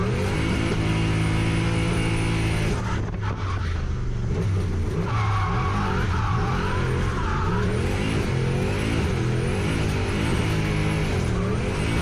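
A turbocharged 1UZ V8 Lexus LS400 drifts in third gear at a drift day, its engine roaring loud and close with rising and falling revs and tyres squealing throughout.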